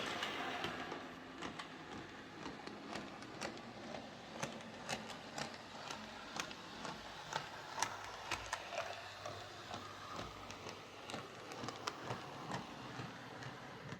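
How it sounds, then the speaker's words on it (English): A Bachmann Webb Coal Tank model locomotive with a dented wheel flange runs on curved track, producing faint, irregular clunks and clicks over a quiet motor hum for several seconds. "it's just making a clunking noise on the curves."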